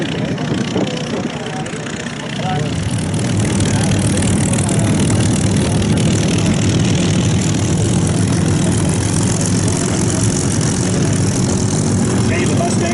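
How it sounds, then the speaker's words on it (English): A P-63 King Cobra fighter aircraft's engine starting up at a flight demonstration, swelling into a loud, steady rumbling idle after a quieter opening, with a voice talking over it. "We can see the P-63 King Cobra starting up."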